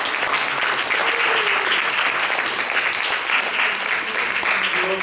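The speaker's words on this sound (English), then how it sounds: "so give yourselves a round of applause." An audience at a writers group event gives a loud, continuous round of applause, many hands clapping together without a break.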